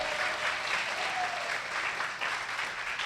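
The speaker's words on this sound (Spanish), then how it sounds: "un fuerte aplauso al Señor Jesús" A church congregation applauds during a Spanish-language service, a thick, sustained wash of many hands clapping in the room, steady throughout with a faint tonal voice briefly under it.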